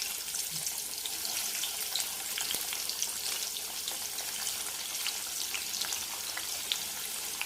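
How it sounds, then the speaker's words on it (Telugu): Bitter gourd pieces deep-fry in hot oil, a continuous dense crackling sizzle heard close and steady throughout with no speech. "మెల్లగా వేసుకొని డీప్ ఫ్రై చేసుకోవాలి ముక్కలు."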